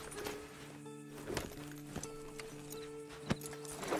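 A horse's hooves clip-clop at a slow, irregular walk in the video game Red Dead Redemption 2, with several sharp distinct hoof strikes standing out against quiet background sound.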